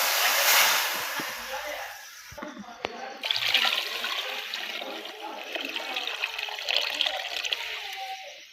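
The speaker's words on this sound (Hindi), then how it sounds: "अब जी हम डाल रहे हैं पानी, क्योंकि मटर हमारे को भुनी लग चुकी है।" Water poured into a pan of roasted peas during home cooking, a steady rushing, splashing pour that fades into softer trickling and sizzling.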